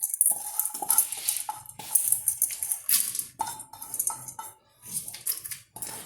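Washed rice and lentils tumble into a pressure cooker with a string of close, bright clattering and rattling bursts broken by short pauses.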